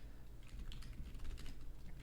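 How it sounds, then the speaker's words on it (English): A username is typed on a computer keyboard, with rapid soft key clicks running continuously over a low steady hum. "I don't know if I'm typing Maze's username wrong"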